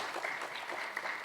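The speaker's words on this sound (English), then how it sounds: "So I want to give them a big round of applause and thank them for that" Audience applause following a keynote address, a steady wash of many hands clapping at a fairly faint, distant level, continuous for about a second with no voices over it.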